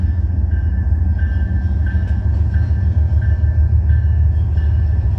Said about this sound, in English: What do we have for power on this train